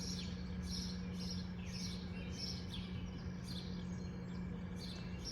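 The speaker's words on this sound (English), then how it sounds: "You can hear the birds singing." Birds chirp in a regular series of short high tweets somewhat far off over a steady outdoor hum in a garden beside a barn, with no talk.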